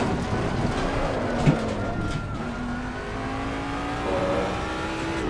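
A Ford Mustang GT3 race car engine drones steadily while cornering on track, the pitch holding and shifting as the driver brakes, turns in and releases, with a brief bump partway through.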